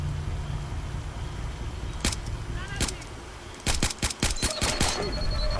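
Gunshots in the video game Splinter Cell Blacklist: a couple of isolated sharp cracks, then a rapid burst of several shots in quick succession, loud over a low background rumble.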